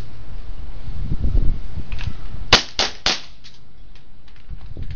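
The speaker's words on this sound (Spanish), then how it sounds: "vamos a hacer tres tiros, ¿eh?" Three sharp airsoft gun shots in quick succession, close and loud, after a stretch of low rumbling handling noise during a shooting class.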